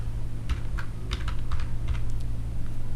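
Keys clatter on a computer keyboard while a search is typed into a web browser, a quick irregular run of close, crisp clicks over steady low room hum, with no talking.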